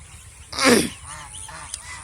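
A duck on a duck farm gives one loud, close honking call that falls in pitch, followed by quieter scattered calls from the flock.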